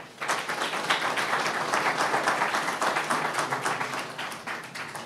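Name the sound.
applause for the newly installed mayor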